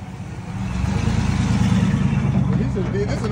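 A vehicle pulling up with a trailer, a low steady engine rumble rising in from the start and holding, close by, with a voice talking faintly underneath.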